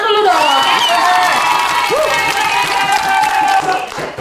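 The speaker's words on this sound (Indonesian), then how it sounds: "Tepuk tangan dulu dong." A small group welcomes Gen Z guests on a KPU NTB podcast set with loud, continuous applause, cheering and whoops. Excited shouting voices and whistle-like cries ride over dense clapping close to the microphone for about four seconds.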